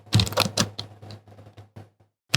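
Computer keyboard keys struck while a Linux terminal command is entered, a quick run of crisp close clicks followed by a pause and one final loud tap.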